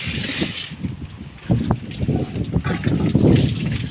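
A strong northeast monsoon wind buffets a small fishing boat returning from sea, giving a loud, gusty rumble and microphone roar with splashy, hissing bursts close by and no talking.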